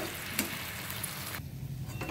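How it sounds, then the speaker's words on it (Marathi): Roasted semolina is poured into boiling water for upma, giving a steady close sizzle and bubbling that briefly drops quieter partway through before picking up again. "याच्यामध्ये मी रवा घातलेला आहे"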